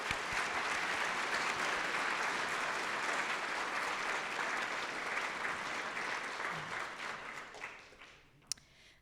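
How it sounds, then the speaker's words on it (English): An audience at a dentistry white coat ceremony applauding graduates' families, a broad, dense wash of clapping that holds steady for several seconds and then gradually thins out, with a single sharp knock near the end. "I will invite us all to give you a round of applause for the incredible humans you have raised taking the stage today"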